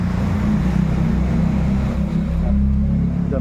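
Honda GX25 four-stroke petrol brush cutter engine idling steadily up close, a continuous loud low drone with a buzzing hum throughout, no talk.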